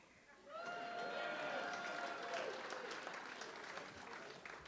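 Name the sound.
comedy show audience applause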